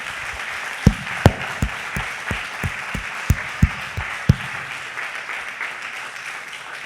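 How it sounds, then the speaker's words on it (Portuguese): A church congregation claps for the Lord, sharp regular claps in a steady beat over a broad wash of crowd noise, fading out toward the end. "Você pode aplaudir o Senhor?"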